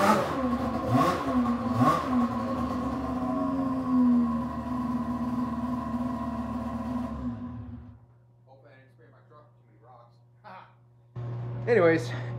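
Polaris Edge X 600 snowmobile engine, running lean and starving for fuel at idle, revs with a buzzing two-stroke tone for several seconds, then drops to a low steady idle hum with faint knocks and a short burst near the end.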